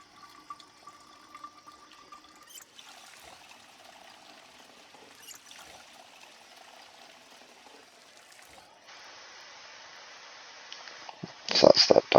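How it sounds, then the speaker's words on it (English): Empty bottles being filled with water: a steady, faint trickle and stream runs for several seconds, changing tone partway through, before louder clunks and splashes at the end, with occasional speech. "What I want to do quickly is fill up our empty bottles of water."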